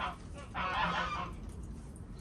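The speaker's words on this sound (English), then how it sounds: "I think my geese just wait for me to start filming before they start making a noise" Geese honk loudly and repeatedly at close range, a burst of harsh calls that swells in the middle and then trails off.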